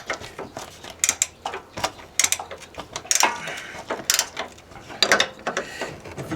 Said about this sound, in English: Alright, let's try a wrench.